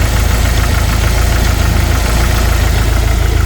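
A 1992 Jeep YJ with the 2.5 engine and five-speed idles steadily close by, a loud, even mechanical chugging with a rapid regular pulse and no voices over it.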